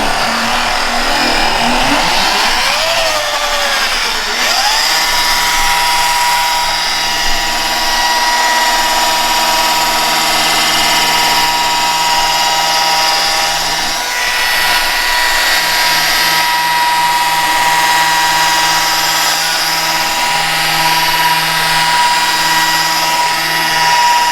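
A car detailing polisher buffs paint at its lowest speed setting, giving a loud, continuous motor whine with steady tonal hum. The pitch dips and climbs early, then holds even for the rest of the run.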